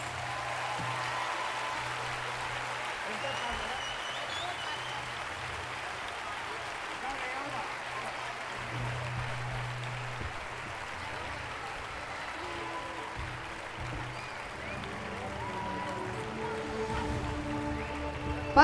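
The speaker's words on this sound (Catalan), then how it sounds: "ara sí que us demano un fort aplaudiment per tots ells" An audience applauds school children at an end-of-year school party, a soft distant patter of clapping that carries on for nearly twenty seconds beneath a low hum.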